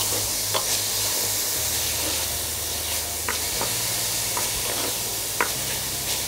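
Chicken fries in a pan with a continuous close sizzle, and a few soft pops and ticks stand out from the steady hiss.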